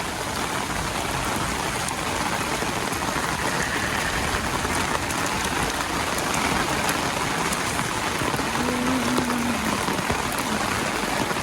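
Steady, dense downpour of heavy rain, a constant loud wash of drops on surfaces with no pauses, heard close throughout, with no voices.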